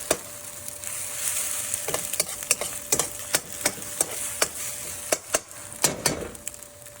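Fish fried rice cooks in a little oil in a pan, a low sizzle broken by regular sharp clacks of a utensil against the pan, near and without speech.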